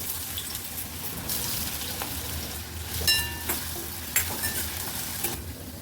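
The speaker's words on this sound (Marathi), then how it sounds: "तेल आपलं गरम झालेलं आहे बटाटा फ्राय करून घेऊया" Potato pieces fry in hot oil in a kadhai on a gas stove, giving a steady close sizzle with occasional scraping clinks of a spoon as they are stirred; no one speaks.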